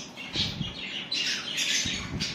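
Lovebirds squawk together inside an aviary full of nesting birds, a near, steady jumble of shrill, rasping calls that fills the whole stretch with no talking.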